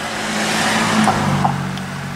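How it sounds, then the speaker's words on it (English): A car passes by on a highway in July heat, heard as a steady broad road roar with a low hum throughout, no voices. "Car passing by there."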